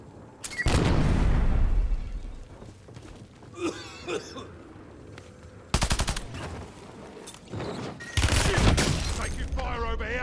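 Gunfire in the Loaded Resurgence video game mode: loud bursts of rapid automatic fire, a long volley early on and further sustained bursts later, with game voice chatter heard between shots.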